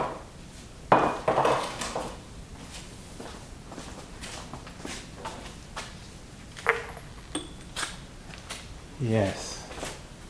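Fired clay pottery jugs from a gas kiln are handled and set onto ware boards, giving scattered hollow ceramic knocks, clinks and scrapes with footsteps nearby, fairly faint and irregular.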